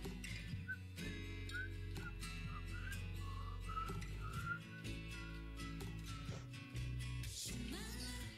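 A clear melodic whistle rises and falls over loud live band music at a concert at Rolling Hall in Seoul, carrying through a sustained musical phrase without speech.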